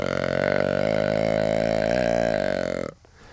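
A deer call imitates a buck's long, drawn-out breeding grunt: one loud, sustained, buzzing croak held close for nearly three seconds before cutting off abruptly.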